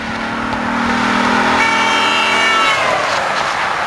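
A pickup truck with one big light mounted on its front passes by at about 65 miles an hour, a loud broadband roar that builds and then drops in pitch as it speeds away.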